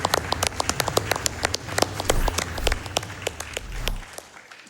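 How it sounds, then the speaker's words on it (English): Enthusiastic applause from a crowd at Summer Games Done Quick 2022 after a Ninja Gaiden speedrun, dense clapping with a few sharper claps standing out, fading off at the end. "let's get one more big round of applause"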